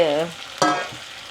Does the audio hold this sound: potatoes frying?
yes